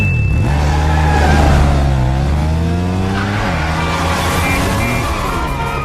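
Cars skid and rev during a chaotic scene in the video game Bayonetta 2. Loud, dense engine roar and squealing tires bend up and down in pitch throughout, with no speech.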